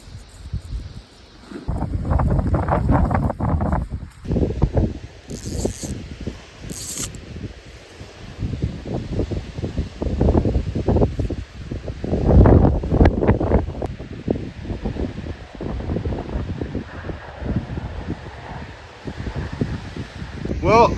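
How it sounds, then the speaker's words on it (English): Gusty wind rips past a pond in rough bushwhacking country, surging and buffeting the microphone in loud uneven waves, while someone talks over it. "It's just the wind's ripping through."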